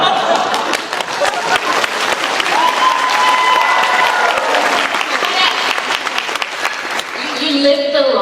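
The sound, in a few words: audience applause at convention panel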